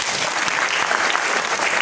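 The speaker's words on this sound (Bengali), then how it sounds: "ওনার জন্য একটা হাত তালিয়ে দেবে।" An audience at a youth career conference on etiquette claps together, a loud, dense burst of applause filling the whole short span without pause.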